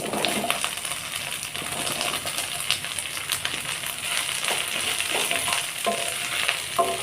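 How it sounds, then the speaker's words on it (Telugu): Mushrooms for a curry fry in a pan with a steady close sizzle, broken by scattered clinks and scraping stirs throughout. "ఇప్పుడు మనం తీసుకున్న మష్రూమ్స్ని వేసుకొని ఫ్రై చేసుకోవాలి."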